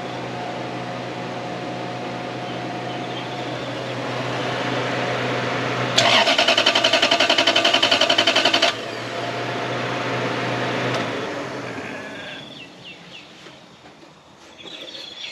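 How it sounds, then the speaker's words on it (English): A car engine with its ECU removed is cranked by the starter motor, a loud rhythmic whirring burst of a few seconds over a steady idle-like hum, then the droning continues and tapers off. "The ECU's in my hand and the engine still cranks over."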